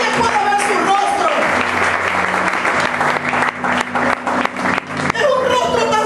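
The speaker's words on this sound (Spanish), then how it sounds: "Dale un aplauso a Él." Church congregation applauding during a sermon, steady loud clapping from many hands filling the room, with some voices mixed in and a brief dip near the end before the clapping swells again.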